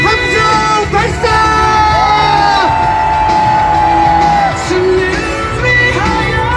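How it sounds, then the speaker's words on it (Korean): Rally crowd at a youth gathering on the eve of the March 1st holiday, loudly shouting and cheering in sustained whoops and yells that come in swells, up close and filling the whole stretch without a break. "함성 발사"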